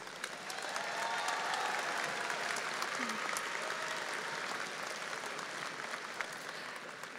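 A commencement audience at Angelo State University applauding graduates, a sustained broad wash of clapping from a large crowd in a big hall, with faint voices and whoops underneath.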